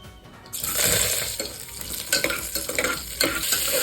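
Onion and tomato hitting hot oil in a pan for khichdi, a sudden loud burst of sizzling followed by vigorous stirring and scraping, with no voices.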